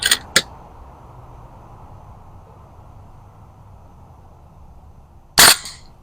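A Beeman 13615 underlever bullpup air rifle fires, with two sharp cracks close together at the start and a louder single shot near the end, separated by quiet near-silence.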